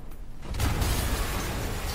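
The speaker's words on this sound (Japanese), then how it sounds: "ユリ、今爆発が。" An explosion in Marvel's Spider-Man, in a building likely rigged with bombs, a sudden loud broadband blast after a brief quiet start, followed by a sustained rumbling, crackling roar that holds to the end.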